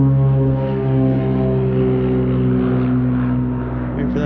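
A Beechcraft Bonanza light airplane passes overhead near a hangar, its piston engine holding a loud, steady harmonic drone from start to finish.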